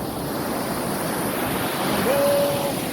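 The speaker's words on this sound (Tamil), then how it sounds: "பார்த்தீங்கன்னா அலை பெருசு பெருசாக வருது கைஸ்" Steady roar of large ocean surf at a beach in Karaikal, waves rolling in continuously with wind rushing across the microphone.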